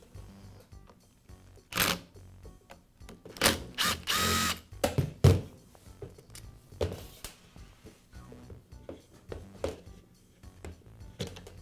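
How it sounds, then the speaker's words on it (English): Power screwdriver backing a screw out of a Milwaukee grease gun housing, heard as several short, close bursts of whirring broken by pauses and small clicks and handling noises. "I'll need to remove one more screw"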